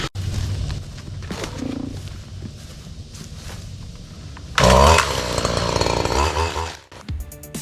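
A weed eater or lawnmower cuts brush on small hunting land on a farm, its engine droning steadily nearby, then surging louder and harsher midway as it bites into growth before dropping off at the end.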